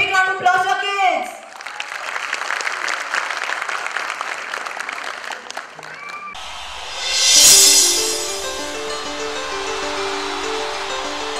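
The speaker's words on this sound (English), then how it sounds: "So parents, give a big round of applause to our kids." Parents clap for their children at a kids' school annual day celebration. A burst of crowd applause lasts about six seconds, then gives way to music, with talk and shouts around it.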